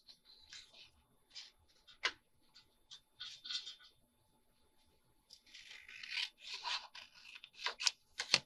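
Paper being cut with scissors during a craft demonstration, a run of soft, crisp snips and rustles, close and fairly faint, coming in irregular bursts with quiet gaps between.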